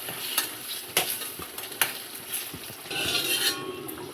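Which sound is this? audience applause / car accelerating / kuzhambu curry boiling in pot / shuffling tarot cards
kuzhambu curry boiling in pot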